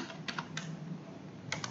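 Light keystrokes on a computer keyboard entering a DOS copy command, a few sparse clicks in two small clusters over a steady background hiss, with no voices.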